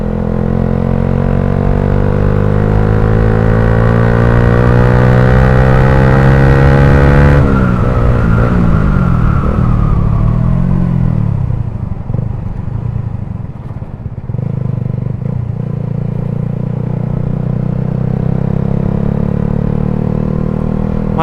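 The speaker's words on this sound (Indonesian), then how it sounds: "sambil dengernya merdunya knalpot" A Suzuki GSX motorcycle fitted with a WRX Lingga aftermarket exhaust revs loudly and close, its pitch climbing for several seconds before dropping sharply into a rough, throaty rumble that carries on at idle and low revs.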